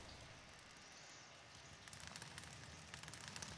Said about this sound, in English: See if the rain stops.